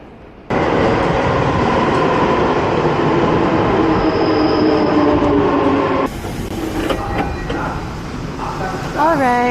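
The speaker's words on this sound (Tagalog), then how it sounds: "It means parating na yung train." A Tokyo subway train on the Asakusa line pulls into the platform with a loud, sustained rumble of wheels and motors. Squeals and clatter rise toward the end as it slows, with people talking nearby.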